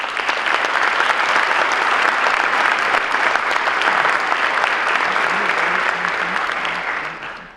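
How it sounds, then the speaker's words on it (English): Audience applause at a State of the Schools event, a full, sustained round of clapping from a large crowd that holds steady for several seconds and then fades out at the end. "let's give you a round of applause"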